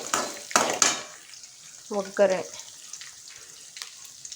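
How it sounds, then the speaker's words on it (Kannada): Oggarane tempering for chitranna sizzles softly in hot oil, a steady low crackle that runs under brief bursts of nearby talking. "ಒಗ್ಗರಣೆ ಬೇಯ್ತಾ ಇದೆ."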